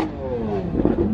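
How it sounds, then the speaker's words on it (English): A fleet of Bugatti supercars drives out, engines revving close by in a loud, rising and falling growl with a burst of throttle near the end. "We got the Bugatti's heading out."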